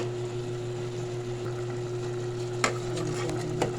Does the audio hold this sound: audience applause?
no